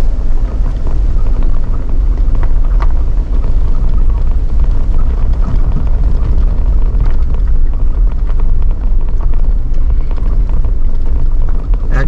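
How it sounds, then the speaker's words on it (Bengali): A fast-flowing river rushes beside a mountain road in Himachal Pradesh, a loud, unbroken roar of water filling the whole stretch without pause. "আর সামনে পাশ দিয়ে নদী বয়ে যাচ্ছে,"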